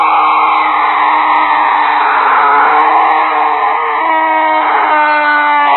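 An undead creature lets out a loud, drawn-out dying scream, a harsh wavering howl that holds for several seconds and bends in pitch toward the end, with no talk over it.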